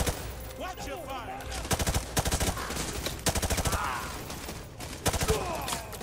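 Gunfire in Call of Duty: Modern Warfare 2 Remastered, with repeated sharp automatic bursts and single cracks from close by, broken by short pauses and mixed with other game sounds and shouting players.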